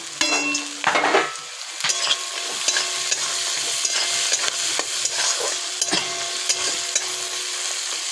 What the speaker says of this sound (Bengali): বাদামটা দিয়ে একটু নাড়াচাড়া করে নেবো